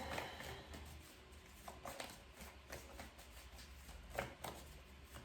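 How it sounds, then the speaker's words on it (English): Soft, repeated riffling of tarot cards being shuffled in several quick bursts, close by, with faint background hum and no talking. "Shuffle a couple times, we'll pull out the spread."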